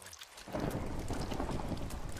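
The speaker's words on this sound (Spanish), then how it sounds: "¿Empezó a llover por naturaleza o porque es de la planta?" Rain begins falling in Minecraft with the Scape and Run: Parasites mod: a quiet moment gives way after about half a second to a steady, fairly loud broadband hiss and patter that continues to the end, with no talking.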